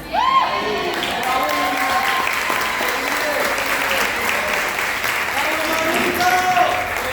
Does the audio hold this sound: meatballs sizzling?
no